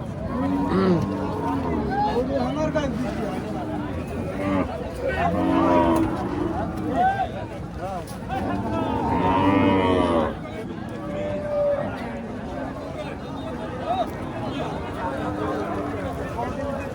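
Sahiwal cattle at a crowded outdoor cow market give several drawn-out moos amid steady crowd noise, while people talk nearby.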